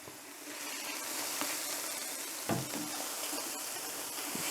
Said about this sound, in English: Our first job is to fry our bacon.